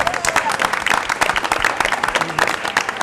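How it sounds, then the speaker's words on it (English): An audience at a township board of education meeting applauds in a dense, steady burst of clapping with a few voices mixed in. "let's give everyone a round of applause"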